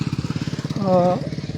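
Motorcycle putters along a badly broken dirt road between two villages, its engine thumping in a steady rapid pulse that swells briefly as it passes close by.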